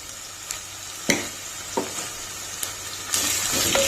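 Quinoa khichdi frying in a pan, a soft steady sizzle with a few sharp clinks and stirring knocks against the pan.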